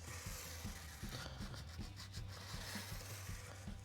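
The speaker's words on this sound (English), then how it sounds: "just a little bit of sandpaper wrapped around my finger like this will do the trick very well" Hand sanding of a guitar fingerboard edge with 320-grit sandpaper wrapped around a finger, on a Hagström Deuce-F; a steady, soft, close rasping rub with quick back-and-forth strokes under a constant low hum.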